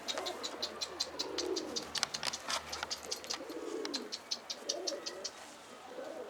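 Soft, repeated cooing from a pigeon close by, rhythmic throaty coos rising and falling over several seconds, with faint chirps and a quiet voice in the background.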